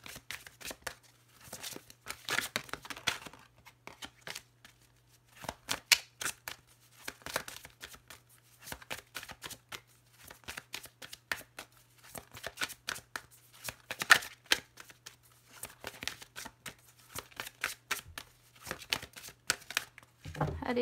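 A deck of tarot cards is shuffled and cut by hand, giving repeated soft riffling bursts and taps at close range, with short pauses between shuffles.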